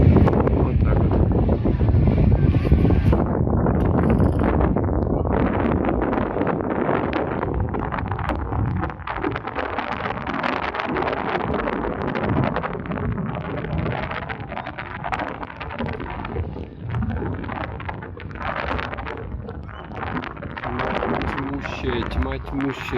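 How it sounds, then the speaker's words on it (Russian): Strong wind on a seaside promenade in Yeysk, Russia, at night buffets the microphone with loud, gusty rumbling throughout, roaring and fluctuating, with faint outdoor sounds beneath. "Тьма тьмущая, ветер дует еще вдобавок."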